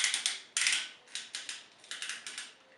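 Ratcheted joints on an Energon Tidal Wave Transformers toy being flexed, producing rapid bursts of crisp plastic clicks in quick, uneven runs, close and clear with no talking.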